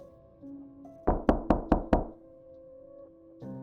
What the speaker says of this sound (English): The first knock came at 2:13 a.m.